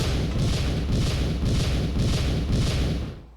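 In the Super Paper Mario video game, Boomer blows up a red X. The blast is a loud, rumbling explosion with several rolling surges that sustain heavily before dropping off abruptly at the end.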